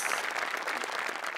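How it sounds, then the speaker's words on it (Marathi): A studio audience at a Marathi comedy show applauds in a steady, dense wash of many hands clapping at once, sustained and fairly close with no talk over it. "हरीश कसपटेंसाठी पण एकदा टाळ्या."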